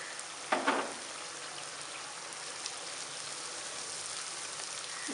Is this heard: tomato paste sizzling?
yes